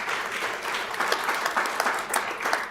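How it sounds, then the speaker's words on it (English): A brief, modest round of applause from a school governing board meeting audience, steady scattered clapping heard from a short distance and fairly quiet. "we wanted to give him a quick round of applause"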